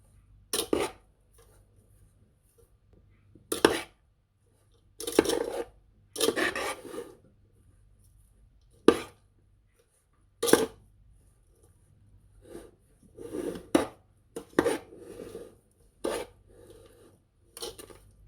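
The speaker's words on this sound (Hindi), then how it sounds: "ऐसे मैं घुमाती जा रही हूँ देगची को और मिक्स कर रही हूँ" A choori mixture is stirred in a cooking pot (degchi) as the pot is turned, giving intermittent scraping and rasping strokes of spoon against metal, close and moderately loud, separated by quiet pauses.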